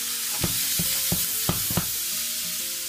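Steady sizzle of meat frying in a pan as flour is added for raxo, with a handful of short stirring scrapes and knocks over a constant hiss, close and fairly loud.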